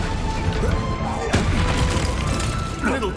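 Blasts and impacts from a spell battle in Hogwarts Legacy, including the Confringo fire spell: a dense run of booms, a sharp crash near the middle and another burst toward the end, over a constant rumble of combat.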